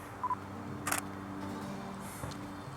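A Nikon Z6 mirrorless camera fires its shutter once outdoors beside a rose, a short crisp click standing out against quiet background hum, followed later by a softer faint tick.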